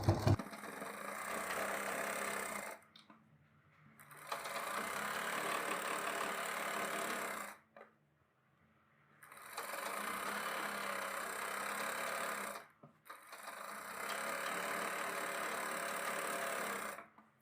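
A sewing machine stitching a salwar in a straight seam, running in long continuous whirring bursts separated by short pauses, fairly close and steady.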